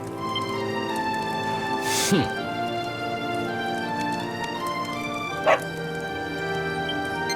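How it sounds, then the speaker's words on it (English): A dog barks twice in Dragon Quest XI, short game sound effects set over steady background music, one near the two-second mark and one later, with no talk. "No, not a dog! Anything but that!"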